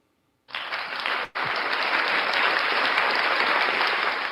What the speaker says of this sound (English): we will applaud them